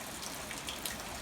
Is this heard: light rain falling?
yes